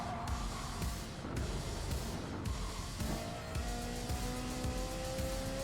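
A Ferrari 458 Italia races in Gran Turismo Sport, its engine droning and revving steadily through gear changes, with tire noise mixed in and no voices.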